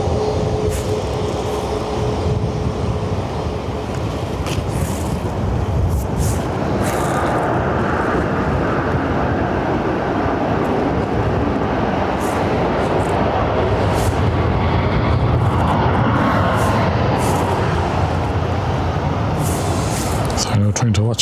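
A Ryanair jet from Malta at Dublin Airport gives a broad, continuous roar that stays strong the whole time, with brief crackling bursts and a voice talking over it.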